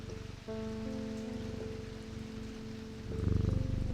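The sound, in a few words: cat purring in video game Strange Antiquities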